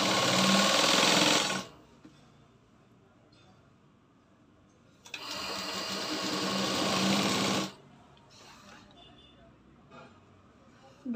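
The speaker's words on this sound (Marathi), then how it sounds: "आता ही मोठी शिलाई मारायची वरून" Sewing machine stitching a long seam on a blouse, two loud fast bursts of stitching separated by a quiet pause, with brief soft handling sounds and faint talk in between.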